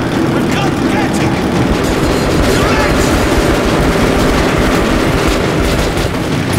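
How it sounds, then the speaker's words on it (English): A train in the video game Metro Last Light Redux rolls by as a loud, continuous rumble with a clattering texture that fills the whole clip, while a voice speaks briefly over it. "That's the train. We were right."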